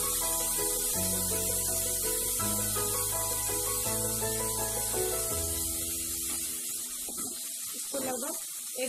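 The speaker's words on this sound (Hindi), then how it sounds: "अब इसमें हम ये मटर डाल देते हैं।" Green peas tipped into a hot pan give off a steady, airy sizzling hiss that sits under loud background music and eases off slightly toward the end.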